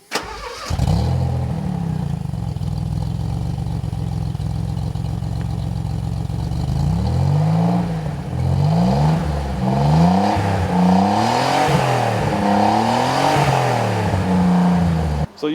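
Maserati Biturbo fitted with a race-built engine with ceramic internal parts, a steady close idle that breaks into repeated rising and falling revs in the second half, loud and alone.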